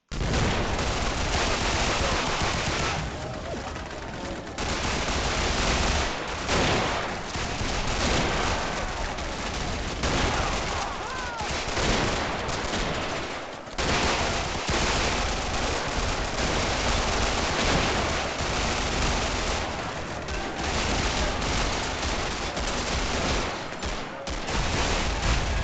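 Rifle and automatic gunfire in the Call of Duty video game, a dense, loud, continuous fusillade of rapid shots and bursts that runs almost without pause for about twenty-five seconds.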